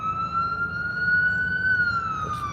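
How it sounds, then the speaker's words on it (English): An ambulance siren wails loud and close in an Austin, Texas street during a police incident, a single sustained tone rising slightly and then falling away as it passes, with no talk. "Oh, we got an ambulance."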